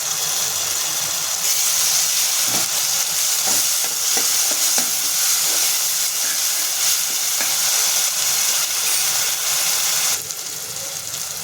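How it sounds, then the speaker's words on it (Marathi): Onion, tomato and ginger-garlic-chilli-coriander paste masala fries in oil in a pan, a steady loud sizzle with intermittent scraping stirs throughout, easing slightly near the end. "हे सर्व पदार्थ ना तेल सुटेपर्यंत चांगलं भाजून घ्यायचं"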